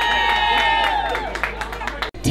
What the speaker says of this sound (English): Big round of applause for Team Eden Care.